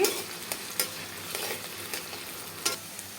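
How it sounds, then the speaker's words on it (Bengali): Chopped onions frying in hot oil left from frying fish koftas, a dense close sizzle with brief crackling bursts and stirring scrapes, alone without voices. "একটা তেলটার মধ্যে দিয়ে দিয়েছি পেঁয়াজ কুচি"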